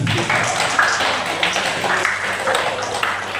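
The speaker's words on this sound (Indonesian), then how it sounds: "Silakan berikan tepuk tangan." Students applauding in a junior high school Indonesian-language classroom: a diffuse, continuous patter of clapping from a group, moderately loud and fairly even throughout.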